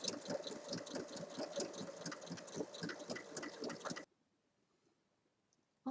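A sewing machine stitches fabric up to the top in a fast, steady run of rhythmic needle pulses for about four seconds, then stops abruptly into near silence.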